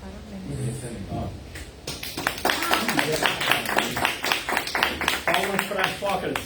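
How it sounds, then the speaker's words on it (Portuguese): Clapping for a speaker at a talk on Socrates and Plato, starting after a brief spoken moment and building into steady, dense applause from a nearby audience for several seconds, with voices mixed in. "Palmas para Sócrates, né?"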